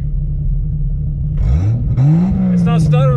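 A car fuelled with vodka rumbles at a low, steady idle, then its engine note swells and rises into a rev, close and loud, with faint voices over the end.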